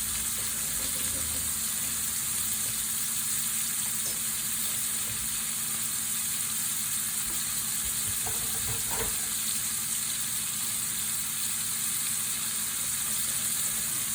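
Liver frying in a pan for liver and onions, giving a steady, dense sizzle that runs unbroken throughout at close range, with a few faint clinks and stirring sounds partway through and no talking.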